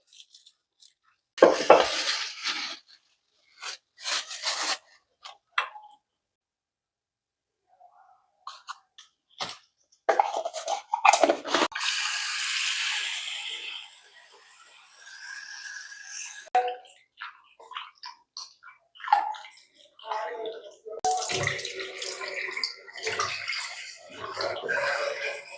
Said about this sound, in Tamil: ஃபர்ஸ்ட் சிக்கனை வந்துட்டு நம்ம கழுவிடலாம்